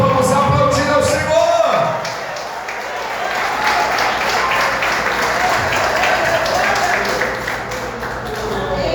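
Applause from a church congregation swells briefly at the start, then settles into a sustained patter of clapping and crowd noise, with a voice audible early on.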